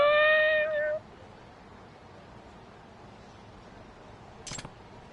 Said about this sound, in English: That cat's got a note in its collar.